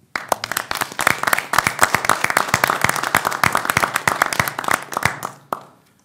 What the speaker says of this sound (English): I'd like to give all of our seniors of the month a big round of applause